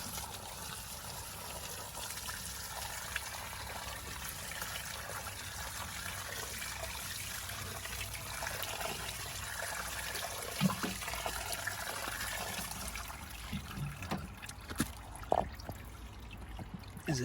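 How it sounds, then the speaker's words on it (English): Cold tap water runs steadily over a K&N air filter from a Land Rover Freelander 2, a continuous trickling rinse with a few sharper splashes toward the end, moderately close and free of talk. "I'll use some cold water here just to rinse that off."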